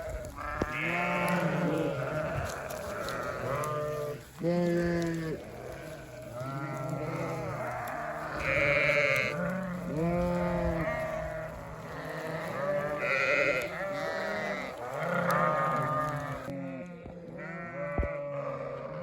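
Many sheep and lambs bleat repeatedly, overlapping calls of different pitches, close by and fairly loud, with no talking.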